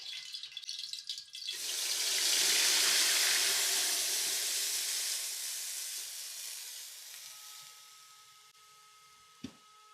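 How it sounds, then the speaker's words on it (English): A smooth blended pumpkin seed sauce poured into hot oil erupts into a loud, broad sizzle that swells quickly, then slowly fades into a steady hiss, with a small clunk near the end. "Now I have my smooth blend that I'm going to pour in the hot oil."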